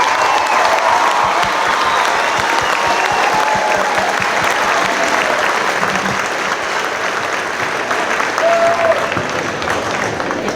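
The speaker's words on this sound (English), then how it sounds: "can we have another round of applause for all of our elementary school students?" An audience at a school district band concert applauds elementary school students, a dense, steady wash of clapping from a large crowd that holds at even loudness throughout, with a few faint voices mixed in.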